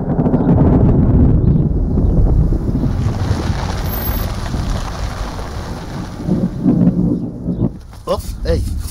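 Stormy wind in a holiday comedy dog film, a loud continuous roar with gusting rumble and wave-like surges throughout, fading slightly before a few clattering knocks near the end.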